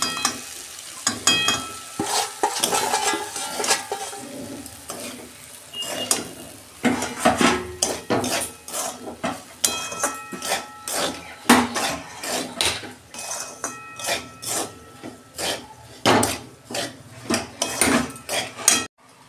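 Semolina being stirred in a pan with vegetables for upma, with dense scraping and clattering of a spoon against the metal pan over a light sizzle.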